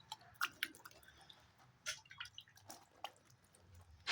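Water is sprinkled little by little onto the back of a cloth to loosen sun-dried tomato vathal, giving faint scattered drips and soft splashes with quiet pauses between them.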